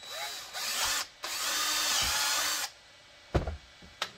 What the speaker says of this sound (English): We will drill a 1/4-inch hole.